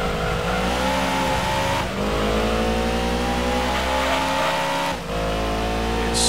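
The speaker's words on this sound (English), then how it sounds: "God, crazy freaking sound effect they got in the cars." Race car engine roaring steadily in Gran Turismo 2, a loud continuous drone with harmonic whine that dips briefly twice as the car shifts or lifts, with hints of tire noise, no voices.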